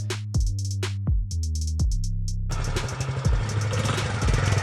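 A motorbike engine kicks over with a few sputtering pops, catches into a rhythmic idle, then revs up into a steady throaty drone as it pulls away, loud and close throughout.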